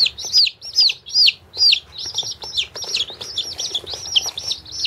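Young chicks kept in a fish tank under a heat lamp chirp in close, repeated high peeps, steady and closely spaced, loud and near.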